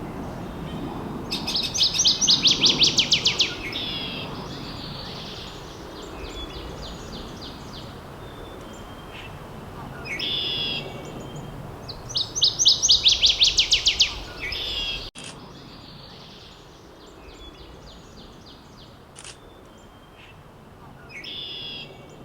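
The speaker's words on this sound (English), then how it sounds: "Next up is the first new warbler for the year list, a northern water thrush." A northern waterthrush sings a loud, ringing song in rapid repeated phrases, heard twice close by, with quieter chips and calls between over a soft outdoor background in Concord, Massachusetts.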